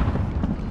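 A frag grenade going off in Call of Duty Caldera, a brief, heavy low-end rumbling burst that stays dense and muffled throughout, with no clear voice on top.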